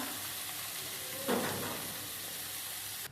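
Greens frying in a pan for a vegetable curry make a loud, even sizzle and hiss throughout, with one brief stirring scrape partway through and no voices.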